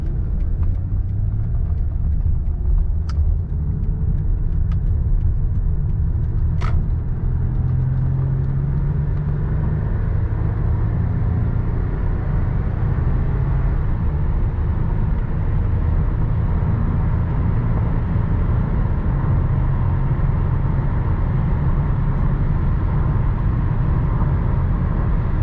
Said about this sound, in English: I'm gonna go ahead and take the ES on the highway for a short distance